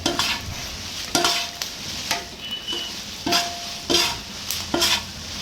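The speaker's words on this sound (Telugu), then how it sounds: "ఈ మిర్చి అన్నిటినీ కొంచెంగా వేసుకొని బాగా ఫ్రై అయ్యేంత వరకు వేపుకొని పక్కన పెట్టి చల్లారబెట్టుకోవాలి" Red chillies fry and sizzle in a pan while a spoon stirs them in repeated scraping strokes, close and clear with no talk.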